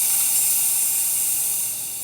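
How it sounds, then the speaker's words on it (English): Steam wand on a freshly serviced La Pavoni espresso machine blasting a strong, steady, loud hiss close by for about two seconds, easing slightly at the end. "Nice strong steam."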